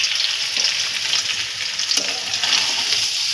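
Paneer cubes fry in hot oil in a kadai, giving a loud, steady sizzle and crackle throughout with no voices.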